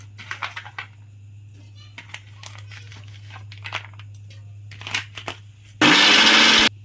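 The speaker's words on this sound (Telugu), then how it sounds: "తరిగిన కొబ్బరి ముక్కలను ఒకసారి మిక్సీలో గ్రైండ్ పెట్టించండి" A kitchen mixer grinder whirs loudly for about a second as it grinds chopped coconut pieces for chutney, after faint clicks and handling noises over a steady low hum.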